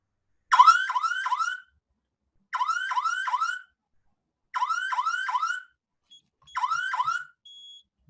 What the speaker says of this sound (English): the siren will sound intermittently, 1 second on, 1 second off